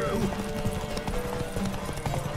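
A horse gallops in the video game The Witcher 3, rapid hoof beats drumming steadily beneath a man's speech and background game sounds.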